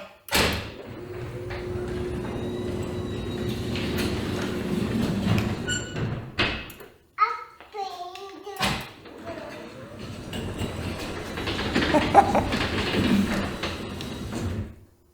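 A high lift garage door opens, with a steady motor hum and rumble under a few thumps and mechanical clunks, plus some brief beeps partway through, close by and fairly loud.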